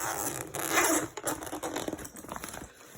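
The side zipper of a medical bag is pulled open in a couple of quick, close ripping strokes, heard alone without talk.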